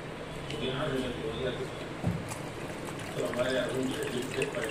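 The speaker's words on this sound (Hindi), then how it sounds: "एक कटोरी लेंगे उसके अंदर पानी डालेंगे" Water poured into a bowl in a home kitchen while making paneer butter masala, a steady trickle and splash heard under continuous talking throughout.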